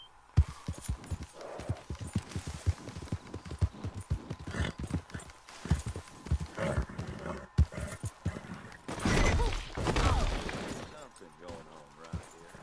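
Rapid hollow horse hoofbeats clatter in an uneven trot amid busy Red Dead Redemption 2 game noise, with bursts of gunfire-like cracks and a louder rumbling passage near the end.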